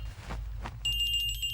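A telephone starts ringing indoors in a dramatic film scene, a bright steady electronic ring that cuts in after some low rustling and carries on to the end.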